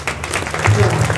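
Audience applause at a kirtan performance during a village Akhand Harinam Saptah, brief and steady, with a voice speaking over it.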